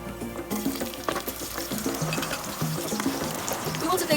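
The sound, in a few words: coriander and ginger sauteing in heated oil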